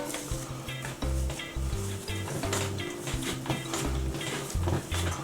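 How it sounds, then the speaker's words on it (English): Bread dough for chocolate hot cross buns is kneaded by hand on a chopping board, giving repeated soft thumps and slaps in an uneven rhythm, close and moderately loud, with no voices. "we're just going to give it another quick knead"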